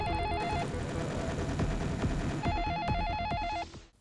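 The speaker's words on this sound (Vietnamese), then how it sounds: "Tí nghe điện thoại đi em" A cartoon telephone rings in repeated electronic trilling bursts with a brief pause between them, loud and close over background music before cutting off.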